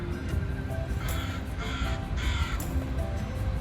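A crow caws several times, harsh and fairly near, against a steady background rumble of rainy, foggy outdoor air.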